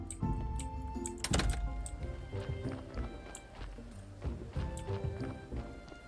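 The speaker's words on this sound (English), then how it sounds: "there goes Donkey with the newest corpse" In the Graveyard Keeper video game, a donkey hauls a corpse cart. Its hooves clip-clop in a steady rhythm over light game music and some clicking.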